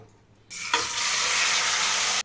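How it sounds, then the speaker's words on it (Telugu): Marinated paneer pieces drop into hot oil and ghee in a kadai and set off a sudden loud, hissing sizzle that holds steady for about two seconds before cutting off. "ఇప్పుడైతే మ్యారినేట్ చేసుకున్న పన్నీర్ ముక్కల్ని ఇందులో వేసేసుకుందాం"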